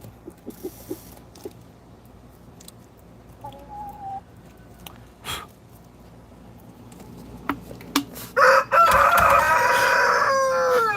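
A pet bird calling indoors, with sparse faint chirps and clicks at first, then a loud, harsh squawking call close by near the end over light room noise.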